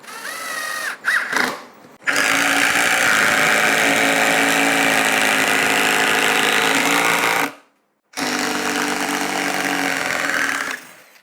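A Ryobi ONE+ HP 18V brushless compact impact driver drives a 4.5-inch lag screw with a star bit, a loud, continuous buzzing hammer that runs for several seconds, stops briefly, then resumes.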